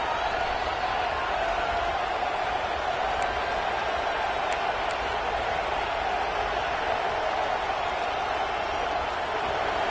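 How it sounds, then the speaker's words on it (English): Crowd noise in a football stadium early in a game, a steady distant roar of many voices with a few faint whistles, continuous and even across the whole stretch. "This crowd bringing the energy and noise early."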